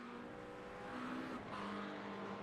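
An LMP2 race car engine in iRacing at Le Mans drones steadily with a sustained tonal whine, shifting pitch slightly midway as it holds speed. There is no talking.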